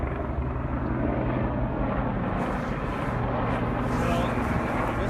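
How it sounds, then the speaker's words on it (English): A helicopter flies over a marsh, its steady engine and rotor drone filling the whole stretch at moderate distance, rising slightly in the second half, with no talking. "There's a helicopter flying over."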